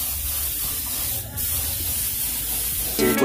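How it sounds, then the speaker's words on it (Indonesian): A spray gun blows PU paint onto a Yamaha V80 motorcycle clutch cover, a steady, loud, close hiss running almost unbroken with a brief dip midway, then music begins at the end. "Oke lur, langsung saja kita semprot."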